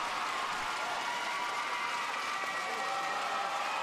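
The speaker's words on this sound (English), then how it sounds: "Look at the reaction from the crowd." A gymnastics World Cup crowd applauds in an arena, a dense, steady wash of clapping heard at a moderate distance, with no voices standing out.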